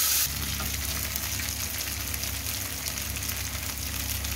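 Green chili paste sizzles and fries in hot oil in a pan, a dense, steady crackling hiss that stays loud and continuous throughout.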